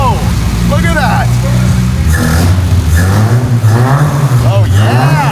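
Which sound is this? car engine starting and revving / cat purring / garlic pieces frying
car engine starting and revving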